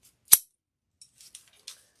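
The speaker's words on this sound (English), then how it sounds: "And then we're going to do a little cut here." Scissors snip once sharply on balloon material, followed by a few faint soft clicks and rustles in otherwise quiet surroundings.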